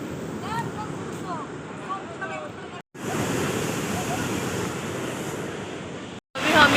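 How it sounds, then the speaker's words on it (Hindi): Sea waves crash at Digha beach as a continuous roaring wash of surf, loud and close, with wind buffeting the microphone and faint voices underneath. "और ये आप देख सकते हो कितना शोर कर रहा है पानी।"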